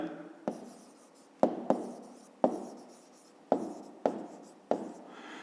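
A pen or pencil writes out a fifth-grade math solution on paper, with a series of short, close scratchy strokes and small taps, each separated by brief pauses.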